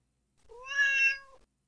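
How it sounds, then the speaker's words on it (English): A domestic cat gives a single clear, drawn-out meow close by, rising and then holding steady before cutting off, with quiet surroundings and no voices. "Just cat doing weird cat things."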